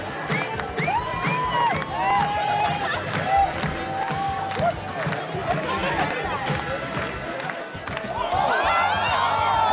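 Spectators in the stands at the US Open tennis cheering, whooping and calling out over a steady crowd roar, with scattered claps and voices rising and falling throughout.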